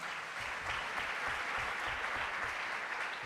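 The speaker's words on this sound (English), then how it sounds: "You can applaud" Continuous applause from students at a science day quiz final on campus, steady and moderately distant with no talk over it.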